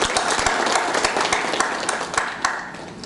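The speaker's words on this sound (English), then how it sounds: "A round of applause for our honorable minister." Audience at a keynote event applauds an honorable minister, a dense, fairly close round of clapping that stays steady and then tapers slightly.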